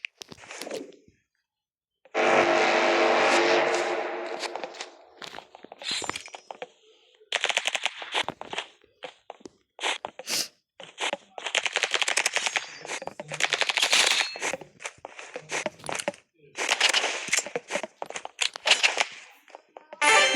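Rapid bursts of Uzi machine gun fire in a video game, loud dense volleys repeating across the clip with short gaps between them.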